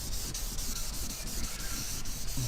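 A dual-action sander with a disc smooths a damaged salvage car's body panel, giving a steady, close rasping rub that runs unbroken from start to finish with no voices.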